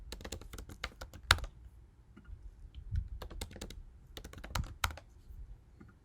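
Rapid computer keyboard typing in short irregular bursts of close, crisp keystrokes with brief pauses between, as if entering sign-up details for an account; no voices.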